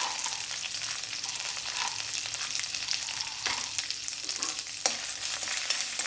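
Ginger, green chillies and roasted gram fry in a pan for coconut chutney, a steady close sizzle with intermittent scraping stirs and light clinks.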